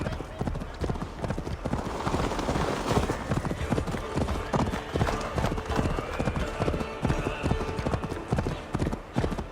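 Horse hooves clip-clopping in the Assassin's Creed Valhalla video game, a steady, close rhythmic trot running throughout with occasional snorts, under game characters talking.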